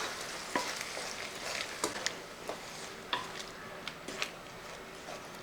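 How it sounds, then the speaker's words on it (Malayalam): A thick ground masala paste for fish curry is stirred in a pan. A soft, steady sizzle runs underneath, broken by scattered light scrapes and ticks of the spoon, fairly quiet and close. "അരപ്പൊക്കെ നമ്മൾ ചേർത്തതിന് ശേഷം ഒന്ന് ഇളക്കി കൊടുക്കുക."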